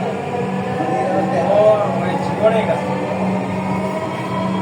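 Dhaka metro rail train running with a steady low rumble and hum throughout, close and continuous, while people talk over it and an onboard announcement can be heard.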